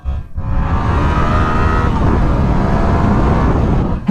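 A Yamaha MT-07 motorcycle on a test ride roars steadily and loudly as the throttle opens, engine drone mixed with rushing wind noise, with no talk over it.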